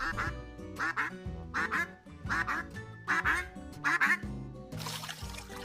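An animated goose honks at nothing on the water, giving a series of nasal quacking honks in short bursts with brief gaps between them, fairly close and clear.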